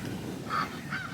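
Pekin ducks in a shaded chicken tractor give a few short, nasal honking calls at moderate distance over a quiet outdoor background.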